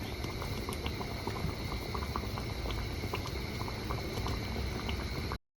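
Dal with torn chapati pieces boils steadily in a pot for Telangana pappu rotte, a dense, continuous bubbling and gentle popping that stays close and even throughout, with no voices.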